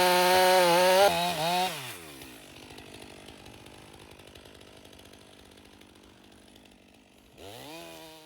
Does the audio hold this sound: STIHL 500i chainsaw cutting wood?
yes